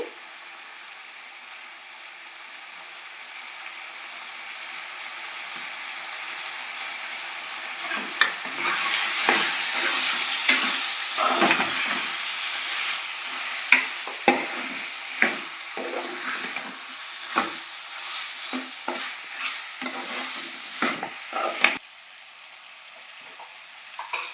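Soaked and rinsed cashews fry in a pan for a restaurant-style cashew chicken curry, a soft sizzle that builds and brightens as they go in, punctuated by repeated scraping stirs and light clinks of a spoon, close and without talk.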